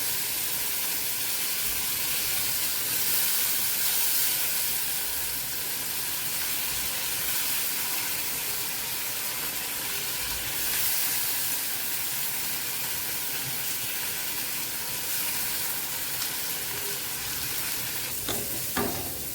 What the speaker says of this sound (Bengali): সেই ডালটা এখন একটু দিয়ে দিই তেলের মধ্যে। আবার একটু দিয়ে দিই। হালকা একটু ভাজি করে নেব।